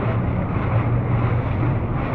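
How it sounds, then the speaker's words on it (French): Strong gusts of wind roar against the microphone on the open sea during a yole sailing race in Martinique, a steady, loud buffeting rush with no voices. "Bon, et voilà, vent levé."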